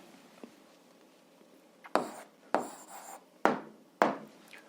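An answer being written by hand for an 8th-grade algebra exercise: four distinct scratchy strokes, each sharp at the start and fading, spaced about half a second to a second apart, close and quiet, with no talk.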